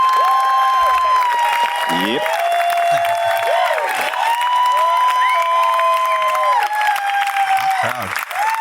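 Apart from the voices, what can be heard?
audience applause and cheering at a live show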